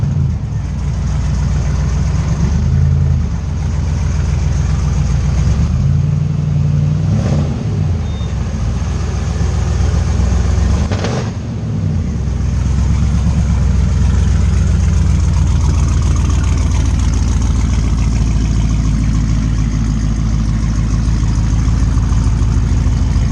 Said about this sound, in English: Yeah, that exhaust system sounds crazy in real life.